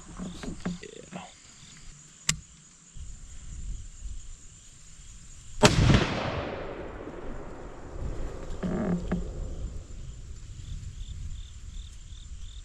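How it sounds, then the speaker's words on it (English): Deer rifle fired downrange at an outdoor range while sighting in a scope: one sharp, loud shot with a long echoing decay, a smaller crack earlier, and an electronic tone and insect-like noise in the background. "we're gonna go ahead and send some rounds down range and see what we need to do to get this scope up and running"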